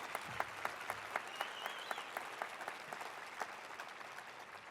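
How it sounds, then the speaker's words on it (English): Audience applause for veterans at a Phoenix police awards ceremony, many hands clapping in a steady crackling wash with crisp distinct claps, fairly distant and slowly easing off. "let's give all of our veterans a big round of applause after that very special video."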